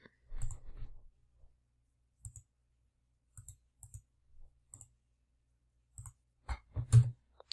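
A computer keyboard being used in Excel gives sparse, crisp clicks, some single and some in quick pairs, with long quiet gaps between them and no talk.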